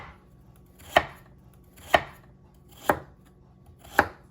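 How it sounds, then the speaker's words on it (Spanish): Four crisp, evenly spaced knife chops on a cutting board as a carrot is cut, close and clear against quiet, no talking. "picamos la zanahoria"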